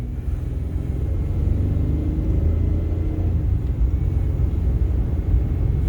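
A 2009–2014 Ford F-150 cruising at about 45 mph during a brake test fills the cab with a steady, loud low road and engine rumble, with no talking.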